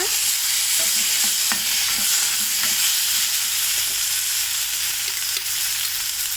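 Onions and tomato sautéing in a pan for mushroom masala, giving a loud, even sizzle with spatula scrapes and stirring taps at an irregular pace, no speech.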